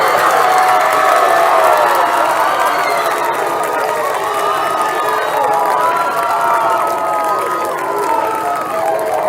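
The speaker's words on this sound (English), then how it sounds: "a round of applause for this year's Crete High School homecoming cook and king and queen" A crowd cheers, shouts and applauds steadily at a Crete High School homecoming during a varsity football game against Schuyler, with a dense, loud roar of many voices and clapping throughout.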